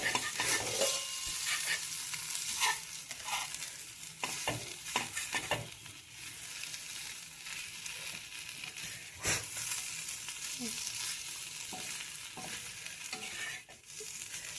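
An egg fries in a pan over a steady hiss, stirred and chopped with a spatula that scrapes and taps irregularly against the metal throughout.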